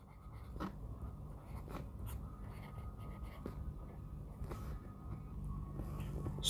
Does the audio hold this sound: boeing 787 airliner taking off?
no